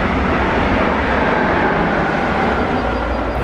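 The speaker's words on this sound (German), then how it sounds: "Hier oben fährt jetzt auch gerade ein Zug." A train passes overhead on a line above the Locher Mühle ruins in Langgöns, Germany, as a steady, loud, continuous rumbling roar with no voices.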